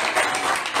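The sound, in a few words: congregation clapping hands in praise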